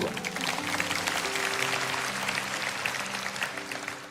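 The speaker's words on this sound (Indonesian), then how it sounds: "Yang percaya kasih tepuk tangan untuk Tuhan." Church congregation clapping for God during a sermon, a steady wash of applause lasting several seconds with sustained musical tones underneath.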